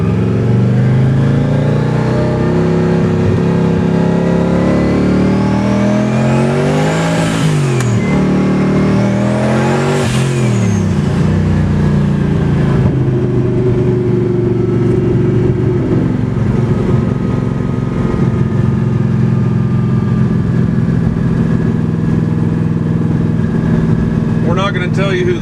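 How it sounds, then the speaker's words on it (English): A 1967 Chevelle SS twin turbo engine with open headers revs loudly and repeatedly, pitch sweeping up and down in close, roaring bursts before settling into a steady heavy idle, with a voice talking over it. "Goes from open headers to closed exhaust."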